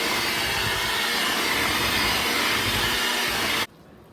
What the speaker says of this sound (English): Mix this in until it's well combined